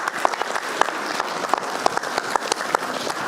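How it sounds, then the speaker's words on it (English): A commission meeting audience gives a round of applause, a moderate spread of clapping with distinct individual claps standing out, steady for a few seconds. "Again, a big round of applause"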